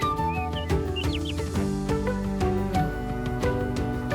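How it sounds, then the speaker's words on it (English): Birds sing on a farm in the evening, with bright chirps and short whistled calls over a soft background of sustained tones, moderately faint and continuous. "all those beautiful sounds, all those birds, like the whole farm was breathing"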